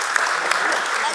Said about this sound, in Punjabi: ਵੇਖੋ ਨਾ ਤਾੜੀਆਂ ਮਾਰ ਕੇ ਤੈਨੂੰ ਕਿੱਡੀ ਇੱਜ਼ਤ ਦਿੱਤੀ